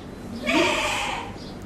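A person's voice imitates a goat with a single drawn-out, wavering bleat, loud and close, rising then fading over about a second against faint background room noise.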